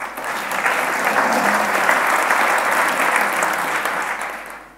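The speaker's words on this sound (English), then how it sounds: "every time I give a talk and I show this, this is where people are conditioned to clap" Audience at a WIRED 2014 design talk by a designer breaks into steady, sustained applause, a dense wash of clapping that fills the room evenly and fades slightly at the end.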